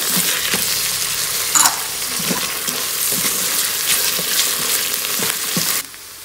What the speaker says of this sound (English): After a minute, add mint leaves and coriander leaves. And stir them well.